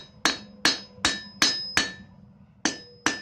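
A blacksmith hammers hot steel on an anvil while drawing out the taper of a tent stake. Seven sharp, ringing blows land at a steady pace, with a brief pause before the last two.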